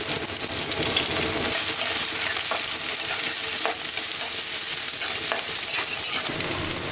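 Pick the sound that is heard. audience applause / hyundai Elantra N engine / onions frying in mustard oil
onions frying in mustard oil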